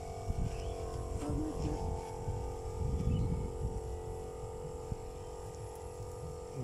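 An electric pesticide sprayer machine runs with a steady low hum and buzz while spraying lemon and guava trees, a constant mains-like drone with faint rustling and handling noise on top.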